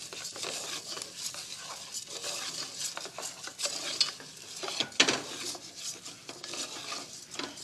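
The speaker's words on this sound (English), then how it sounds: "our short grain arborio rice goes in. And we're going to coat this rice in flavorful fat." Short-grain arborio rice is stirred in hot fat in a pan, giving a continuous close scraping and rustling with a faint sizzle and an occasional utensil clink.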